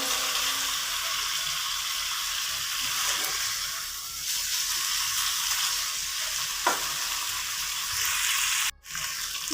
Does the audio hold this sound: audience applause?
no